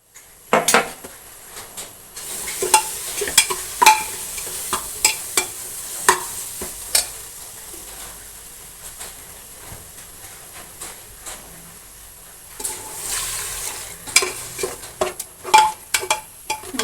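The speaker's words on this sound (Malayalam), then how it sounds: "ഇതെല്ലാം നമ്മൾ ഇനി നല്ലതുപോലെ ഒന്ന് ഇളക്കി യോജിപ്പിക്കണം" Spices being stirred in a cooking pot for a chicken and coconut rice dish, heard as repeated scraping clinks of a spoon against the metal with a soft sizzle underneath, in an irregular rhythm and close by, pausing briefly in the middle.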